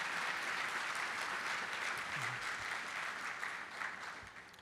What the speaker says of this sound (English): So big round of applause for Terry